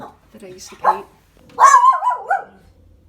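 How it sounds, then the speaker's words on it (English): Dogs in a house bark and yelp in a couple of short bursts, a close high whining bark rising and falling, with a voice talking over it. "Sorry about the dogs."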